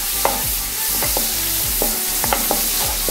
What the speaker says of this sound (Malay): Kita gaul-gaul.